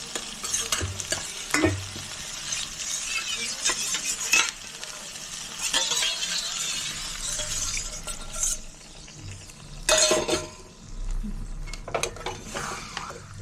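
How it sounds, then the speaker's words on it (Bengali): A spoon stirs ghugni in a nonstick pan after water is added, giving repeated scraping and clinking strokes over a soft simmering sizzle, close and fairly loud. "এবার নাড়ো ভালো করে"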